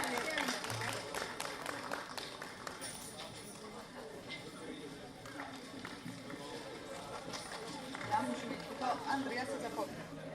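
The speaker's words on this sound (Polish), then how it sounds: "Wielkie brawa jeszcze raz." An audience applauds at a folk ensemble concert, sustained clapping from a crowd heard at a distance, fairly faint and steady, with voices mixed in.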